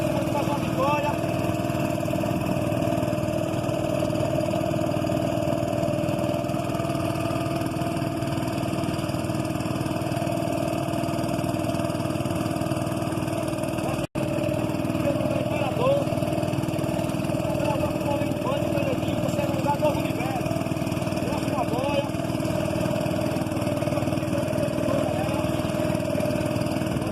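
Racing boat engines roar at a steady, close, loud drone throughout an eight-metre boat race at Ilha das Flores, Sergipe, with no break in the sound.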